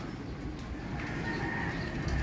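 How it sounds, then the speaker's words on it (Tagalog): Pigeons coo softly outdoors over a steady low background rumble, with a faint continuous bird call running through. "Tingnan natin yung mga ibon natin."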